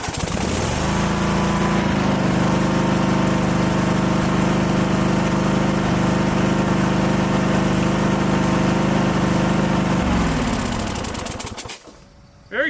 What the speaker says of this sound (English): it should start and stay running when I take the parking brake off now